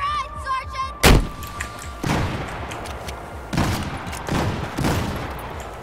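Gunfire in the video game Battlefield 4: several heavy, booming shots spaced roughly a second apart over a steady battle-noise backdrop.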